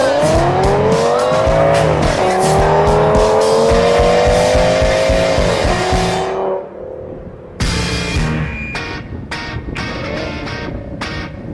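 Ford Mustang race cars in the Stampede 5.0 race scream past up close, engines revving and rising through gears with tire squeal, then a pause before more cars roar in and out with quick bursts.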